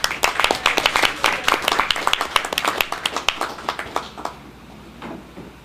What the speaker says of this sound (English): Please give yourselves a big round of applause for being here tonight.